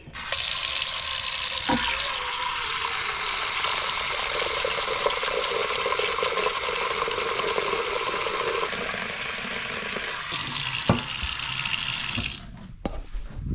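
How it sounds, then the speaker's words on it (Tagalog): Tap water runs steadily into a cooking pot for boiling meat for ginisang talong, a loud continuous splashing rush lasting about twelve seconds before it is shut off. "lagyan natin ng tubig"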